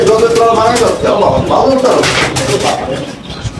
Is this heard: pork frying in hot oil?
no